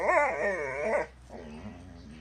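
A puppy sings with loud, wavering whines and howls that rise and fall for about a second indoors, then drops to softer, lower whimpering.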